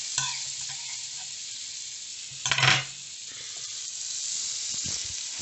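Spare butter dropped into a hot toasted sandwich machine sizzles and hisses loudly and steadily up close, with a brief louder crackling flare partway through.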